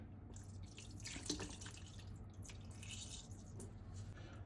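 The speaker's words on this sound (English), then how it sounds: "I'm going to pour over some of the marinade." Korean galbi marinade poured over a single layer of short ribs in a container, a soft, steady liquid trickle and splash with faint wet squishes, quiet and close, with no talking.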